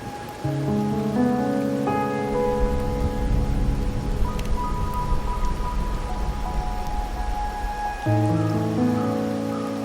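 Steady night rain falls in the video game Wuthering Waves, a continuous wash of patter under a sustained musical score with no voices.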